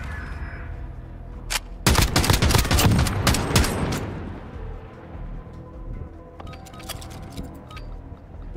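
Gunfire in the video game Call of Duty Modern Warfare: a dense, loud burst of rapid automatic shots for about two seconds, then fading to scattered distant pops over low background rumble.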